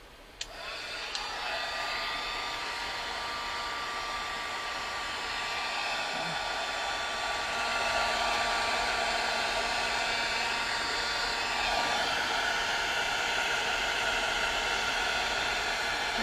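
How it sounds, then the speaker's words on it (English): A heat gun blows steadily for about sixteen seconds, a broad airy whoosh with a whining tone that swells slightly louder midway, used to warm a metal plate while stenciling birch trees. "Get up my heat gun, heat it up a little."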